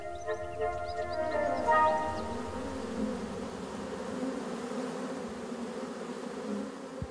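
Honey bees buzzing, a dense steady hum of many insects close by, fairly faint, with a brief brighter swell early on and a soft murmur of voices underneath.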